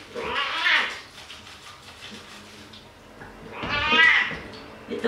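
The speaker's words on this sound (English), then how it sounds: "it just meow meow every time he goes shower." A cat meows loudly twice during a bath, each cry drawn-out and whiny, heard close with a quiet gap between the calls.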